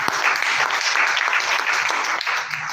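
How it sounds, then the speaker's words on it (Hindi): An audience at a business presentation breaks into hearty applause, a close, dense burst of clapping that stays loud and steady for a few seconds. "जोरदार तालियां।"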